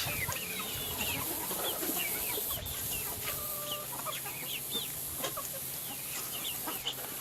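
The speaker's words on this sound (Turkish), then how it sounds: "Tavuklarımız bunları bu şekilde yavaş yavaş yiyecektir." Hens and chicks clucking and cheeping busily while pecking at watermelon rinds in a farmyard, a dense chorus of short calls close by with no one talking.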